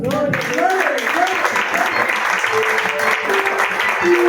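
A church congregation applauds during a sermon, steady, full clapping that fills the room for several seconds, while voices call out and a preacher speaks over it.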